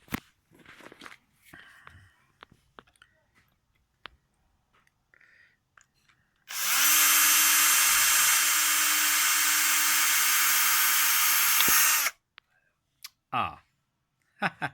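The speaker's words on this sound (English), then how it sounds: "So each one I'm going to go through with a 3mm drill and clear." A 3mm drill bit clears the hole in a 3D-printed peg, a loud steady whine lasting several seconds in the middle, framed by handling clicks and taps before and after.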